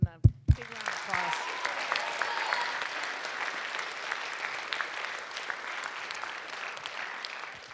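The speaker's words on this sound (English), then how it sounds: "we want to give them a big round of applause" A church hall audience claps for a sustained stretch after a couple of sharp opening claps, the applause dense and steady, slowly thinning toward the end.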